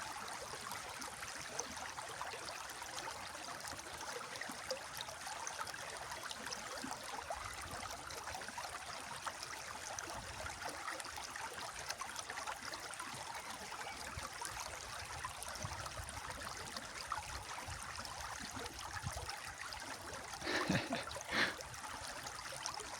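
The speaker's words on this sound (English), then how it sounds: "And the sound of flowing water." Gently flowing stream water makes a soft, continuous rushing hiss that stays faint and even throughout, with a brief livelier splash near the end.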